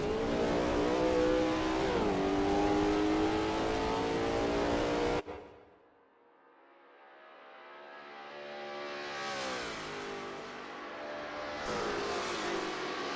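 Lola T70 MkII Spyder race car engine at Spa in a racing video game, a loud sustained roar with shifting pitch that cuts out abruptly midway, then swells back up as the revs climb again.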